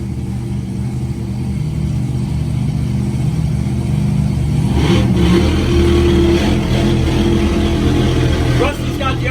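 A drag race car engine holds high RPMs at a night racing event, a loud sustained roar that swells midway, with crowd and commentary voices mixed in underneath.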